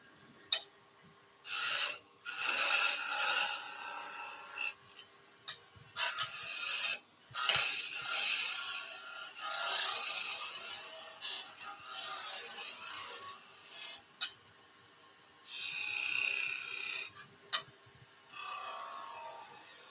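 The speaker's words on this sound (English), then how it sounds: "Then sand down to a finish." A turned wooden traditional German Reiterlein Christmas ornament is sanded on a wood lathe, with intermittent rasping, rubbing bursts of moderate loudness separated by short pauses.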